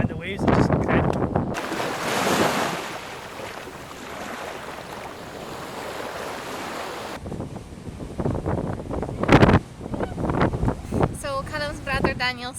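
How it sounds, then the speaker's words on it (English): Strong wind buffets the microphone as big waves crash on the cliffs by the lighthouse at Eshaness, Shetland, in a gale of about 52 knots. The roar is loud and steady through the middle, with talk before and after. "It's blowing an absolute hoolie here, and the waves are just incredible."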